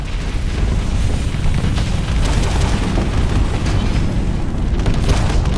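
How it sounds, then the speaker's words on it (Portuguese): In the space game Starsector, explosions and weapon impacts boom in a dense, loud, continuous barrage of bursts layered over one another, with no pause. "tá vendo aquela explosão?"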